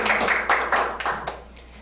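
A brief round of clapping from a small indoor audience, with uneven hand claps that thin out and fade toward the end.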